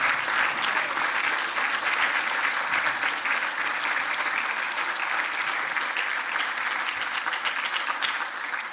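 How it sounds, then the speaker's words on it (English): Sustained, dense applause from an audience at a social justice lecture, a steady loud wash of many hands clapping that holds evenly for several seconds before starting to ease. "I think we need like a standing applause, seriously"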